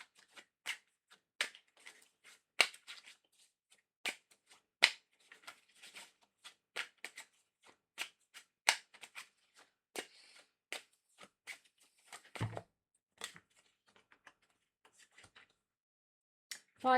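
Tarot cards being shuffled and handled, a quiet series of soft, crisp riffling clicks and slaps in an irregular rhythm, close and alone with no talking.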